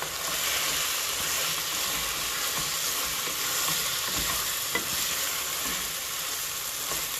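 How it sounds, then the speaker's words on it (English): Chicken sautéed with de-seeded green chilies in a hot pan for nasi lemak, giving a steady, dense sizzle close up with faint stirring scrapes and no talk. "Basically saute it really, really well."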